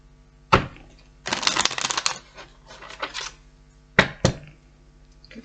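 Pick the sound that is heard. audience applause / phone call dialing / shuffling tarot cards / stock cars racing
shuffling tarot cards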